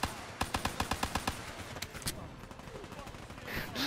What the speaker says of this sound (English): I swear, this is a semi-automatic pistol.